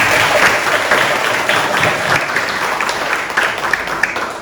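An audience at a Buddhist dharma talk in a vihara claps loudly and densely for a few seconds, a close, continuous burst of applause with no talking over it.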